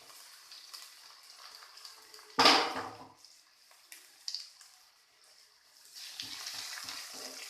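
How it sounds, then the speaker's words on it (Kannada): Tomatoes tipped onto browning onions frying in a pan for vermicelli chicken biryani, a sudden loud splash and hiss that fades into a quiet simmer, then scattered stirring scrapes near the end. "ಈರುಳ್ಳಿ ಬ್ರೌನ್ ಆಗ್ತಾ ಇದೆ, ಈಗ ನಾನು ಟೊಮೆಟೊ ಹಾಕ್ತೀನಿ"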